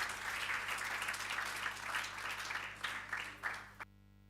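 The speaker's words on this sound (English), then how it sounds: "Give her a round of applause" An audience at a government campaign launch applauds, with several seconds of moderate, fairly distant clapping that ends abruptly.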